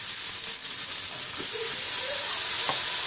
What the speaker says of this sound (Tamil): தக்காளியை சேர்க்குறோம்.